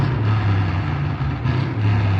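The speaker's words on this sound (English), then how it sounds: "Shut the fuck up with that damn loud truck and shit" A loud truck passes nearby with a heavy low engine rumble that holds steady for a couple of seconds, with no talking.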